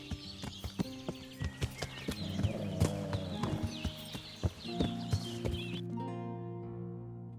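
Hooves clip-clop in a steady rhythm while a horse whinnies in the video game Kingdom Come: Deliverance, then the hoofbeats stop and the scene quiets.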